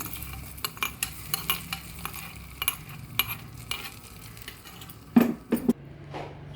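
Tempering added to a simmering radish sambar, with a soft sizzle and frequent spoon clinks and stirring against the pot, then a brief louder splash and hiss near the end.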